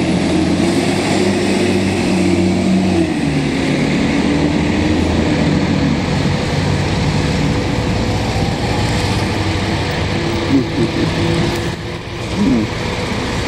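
A classic VW van and a garbage truck drive past on a Montreal street, a loud steady engine rumble and road roar that swells and holds, then eases slightly toward the end, with no talking.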